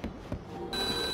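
A telephone rings in The Godfather video game with a short electronic trill, then a sustained steady ringing tone, at moderate loudness with no talking.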